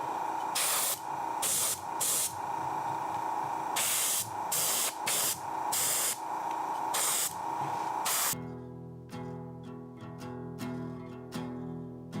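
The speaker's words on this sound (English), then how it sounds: "Give it a test spray" An airbrush sprays gray Vallejo surface primer in short test bursts, a loud close hiss in repeated pulses of about a second, then quieter clicks and a faint tonal hum as spraying stops.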